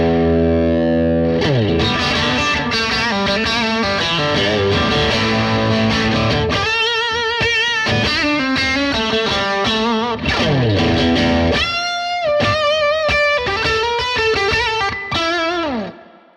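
Electric guitar through a Bad Cat Black Cat amp on its dirty channel with the bridge pickup and reverb turned down, playing loud, continuous distorted chords and riffs with fast note runs for about sixteen seconds, no talking.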